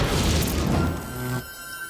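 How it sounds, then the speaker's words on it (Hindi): In an animated cartoon, firecrackers set on a birthday cake in place of candles go off as one loud, crackling blast that roars for about a second, then cuts off sharply into a quiet hum. "कैंडल्स की जगह पटाखे रखकर"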